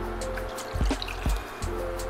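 Apple cider vinegar trickles into a kitchen container, making a close, soft liquid pour with a few distinct splashy drips.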